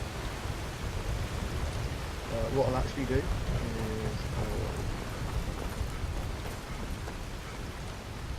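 Steady rain falls in the video game Skyrim as a broad, even hiss with low rumble throughout, while someone talks briefly over it in the middle.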